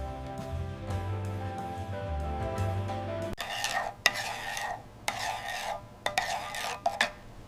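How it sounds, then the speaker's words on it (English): A spoon stirs a sauce of honey, oyster sauce and orange zest in a bowl for crispy orange sesame chicken. Scraping strokes come in uneven bursts after a few seconds of low, steady tonal background, with no voices. "Mix it until the honey dissolves"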